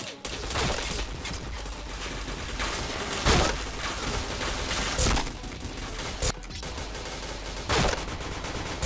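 Dense video game gunfire crackles almost without a break, with repeated louder bursts standing out above a busy, cluttered mix of automatic fire.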